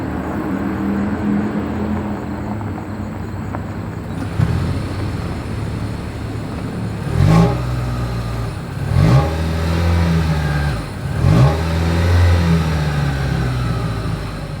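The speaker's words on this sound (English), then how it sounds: "here is that exhaust clip" Exhaust of a 2025 Toyota Crown hybrid: a steady engine drone running alone, then three short revs in a row, each rising and falling back to idle.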